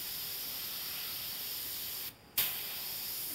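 An airbrush sprays black paint onto a model rocket's nozzle area in a steady, close, airy hiss that stops briefly and then resumes with a small burst before continuing evenly.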